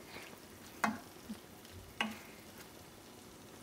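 Prawns cook in a hot pan with a faint, steady sizzle, broken by a few sharp ticks and clinks of a utensil stirring against the pan.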